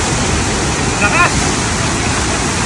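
Strong rushing water at a river pool in Abra, a loud, continuous broadband roar with no letup, a brief voice rising faintly above it near the middle.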